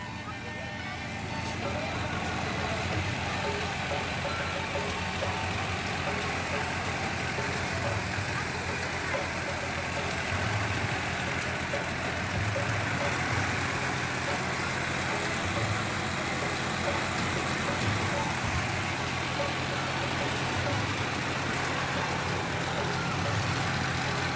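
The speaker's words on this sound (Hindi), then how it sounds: "ये ट्रैक्टर लगा हुआ है।" A tractor engine drives a threshing machine processing mung beans outdoors, a steady loud mechanical drone and rumble running unbroken throughout with no pauses.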